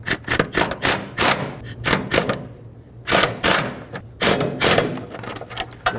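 Bolts on a starter bracket of a 2013-2020 Nissan Pathfinder being tightened with a hand ratchet, a close, brisk series of clicking bursts with short pauses between runs of strokes.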